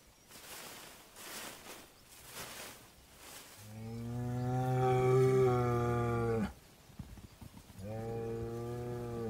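A Highland cow lows in open Scottish grassland, giving a long, loud, drawn-out moo followed by a second sustained call, with breathy outdoor noise at the start.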